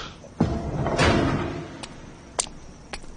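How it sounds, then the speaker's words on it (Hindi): A door is shut with a soft thud followed by a brief rumbling scrape, then a few faint clicks and knocks in an otherwise quiet room. "दरवाजा भी बंद कर देना।"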